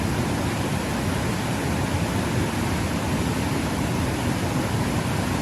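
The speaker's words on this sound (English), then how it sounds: "listen to the sound of this water" Water flows in a steady, even rush, a dense hiss with no breaks or changes for several seconds.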